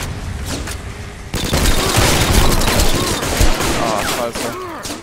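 Rapid gunfire bursts in the online shooter Combat Arms: Line of Sight, dense automatic fire with sharp cracks and booms, loud and close, continuing over game sound effects.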